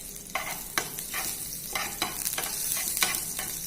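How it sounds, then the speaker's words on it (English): Garlic fries in a pan for spinach and paneer curry, a continuous close sizzle broken by repeated scraping stirs at an irregular rhythm, with no talking. "Garlic we fry"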